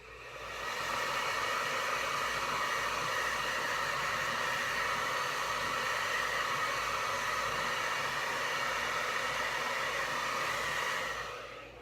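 A hair dryer blows a steady, loud hiss for about ten seconds, drying white paint on a fish painting, starting and stopping cleanly with no talking.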